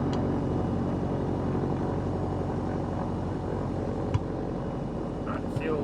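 A Piper PA-28 Arrow III in a flight simulator game idles and taxis with a steady low propeller-engine drone. A faint click sounds near the end.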